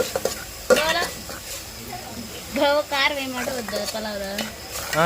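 Gongura chicken curry is stirred and fried in a pan, giving a close sizzle with scraping stir strokes and occasional utensil clatter, while a person talks over it for much of the time.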